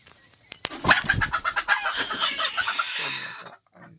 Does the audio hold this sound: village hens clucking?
yes